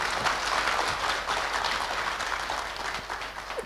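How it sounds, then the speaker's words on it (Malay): Applause from a large audience of over 500 people at a religious talk in a hall, a steady dense wash of clapping that holds at an even level for the whole stretch. "Tepukan gemuruh untuk mereka."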